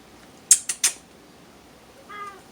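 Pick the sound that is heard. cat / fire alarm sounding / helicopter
cat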